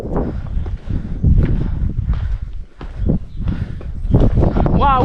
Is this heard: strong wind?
yes